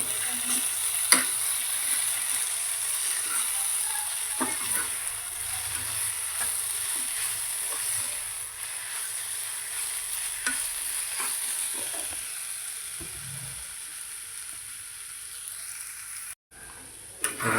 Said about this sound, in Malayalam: ബീട്രൂട്ട് നമുക്ക് ഇളക്കി കൊടുക്കാം